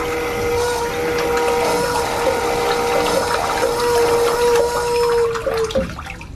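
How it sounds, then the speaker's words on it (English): A urinal aboard the cruise ship Grandeur of the Seas flushes with a loud rushing of water and a steady whining tone that holds throughout, then drops away as the flow ends. "this bathroom gets the award for the most fun noise when flushing a urinal"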